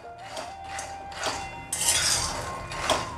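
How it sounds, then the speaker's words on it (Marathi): Peanuts dry-roasting in a kadhai over a low flame, stirred with a spoon, give a run of dry rattling, scraping clatter with short bursts and a louder stretch of stirring partway through, close and steady. "तर सर्वप्रथम आपण शेंगदाणे भाजून घेऊया"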